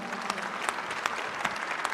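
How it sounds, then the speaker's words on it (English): An audience applauds a brother attorney being introduced at a Nation of Islam gathering, steady moderate clapping with a few sharper claps standing out over two seconds. "Can we give him a round of applause?"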